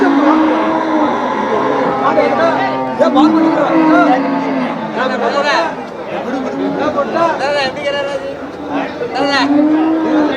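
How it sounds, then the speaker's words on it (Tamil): Cattle at a busy open-air cattle market in Melapalayam low and moo now and then beneath constant loud crowd chatter and several people talking. "மாடு"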